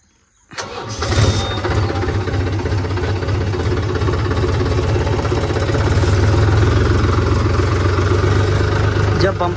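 A tractor engine with a bumper attached starts in a field, then settles into a loud, steady chugging idle that continues to the end.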